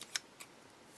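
A pair of scissors snips through paper strips in two quick, crisp cuts close by in a quiet room, the second softer than the first.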